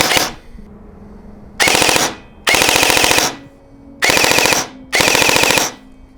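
A G&G SSG-1 USR airsoft rifle with a Proline gearbox fires semi-auto on a 7.4 volt battery, loud and close, in five sharp bursts of rapid snappy shots separated by brief silences.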